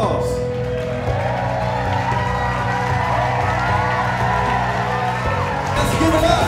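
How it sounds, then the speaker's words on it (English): Wedding guests at the Flanders Hotel cheer and whoop in a dense, steady crowd roar with scattered applause, loud and continuous throughout, with voices mixed into the noise. "Let's give a huge round of applause for this beautiful occasion thus far."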